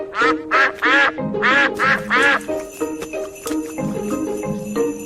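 A cartoon duck on a frozen pond in Peppa Pig, quacking six times in quick succession, loud and close, followed by faint tinkling, chiming tones.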